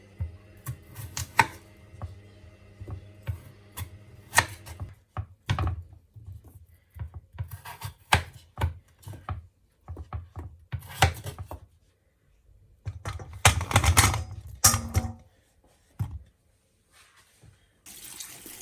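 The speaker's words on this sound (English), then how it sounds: "peel the potatoes and then cut it into smaller pieces" A knife cuts peeled potatoes into smaller pieces on a kitchen board, making irregular, sharp knocks and bursts of clattering with quiet gaps between them.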